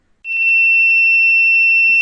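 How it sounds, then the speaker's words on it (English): A rainfall monitoring device on a Cortex-M4 board sounds its alarm: after a couple of quick chirps, a loud, piercing, steady electronic beep starts and holds unbroken, close and alone. "So you will get the beep alarm sound."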